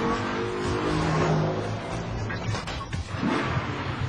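A Maserati Gran Sport taken flat out through a chicane, its engine roaring loud and close and holding a steady high pitch with a slight shift as it sweeps through the bends.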